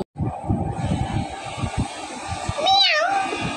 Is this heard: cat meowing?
yes